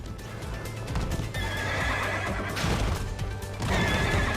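A hammerhead horse creature in the video game Stellar Blade neighs and whinnies loudly while charging close by, its heavy hoofbeats clopping under dense, rumbling game noise with no voices.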